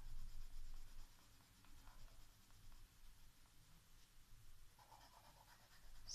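Colored pencils scratching across paper in soft, irregular strokes, faint and close, with a few slightly brighter scribbles near the end.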